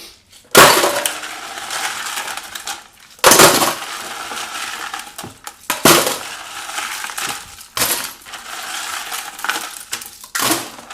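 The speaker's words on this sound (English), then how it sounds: "Now I'm just going to try to scoop out some of this ice that's left in here." Leftover ice scooped out of a container while making pickles, heard as four separate loud bursts of crunching, clattering ice, each followed by a quieter scraping tail.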